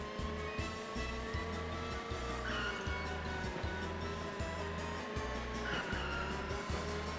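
Cars race in the PS2 video game Gadget Racers, with a steady, pulsing engine drone and tire skids and squeals that rise over it twice. No one speaks.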